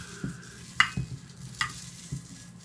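Soft squishing and crackling as foam board is pressed down under a bottle, a few distinct crunchy bursts over a low rustling background, close by.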